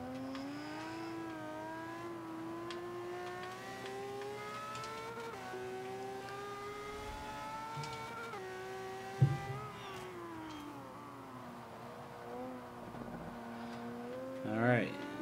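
A racing car in Forza Motorsport 5 roars continuously, its engine pitch climbing and dropping through gear changes and hard braking, with a sharp thump near the middle and a brief squeal at the end.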